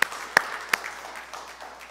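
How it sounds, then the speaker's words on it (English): A few sharp, separate hand claps from a church audience at a Lenten vespers service ring out in the first second, then fade into quiet room tone. "let's give them both a round of applause."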